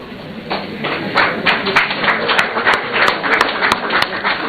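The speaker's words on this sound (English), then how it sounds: "Please, another round of applause to Madam Mobobia and her team." Audience applause at a presidency presentation ceremony for MahamaCares contributions, a steady patter of many hands clapping with rhythmic sharp claps, moderately loud and continuous.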